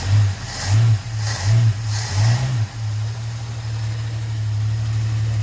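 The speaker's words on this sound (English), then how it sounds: "Give a little throttle." A car engine fitted with dual Holley 1920 carburetors is set to a steady idle and given several quick throttle blips, each a short loud rev that drops back, before it settles into an even rumble.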